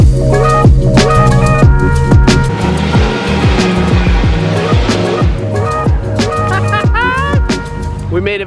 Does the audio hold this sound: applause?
no